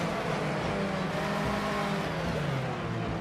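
A race car in Project Cars 2 roars continuously in wet weather, its engine note sliding downward as it slows under braking, loud and close with no talk.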